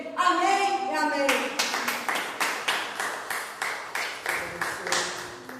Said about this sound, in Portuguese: celebrem, glorifiquem e aplaudem o nome do Senhor Jesus